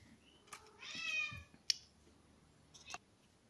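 A house cat meows once, a drawn-out plaintive call at moderate distance, followed by a few faint clicks and taps in an otherwise quiet room with no speech.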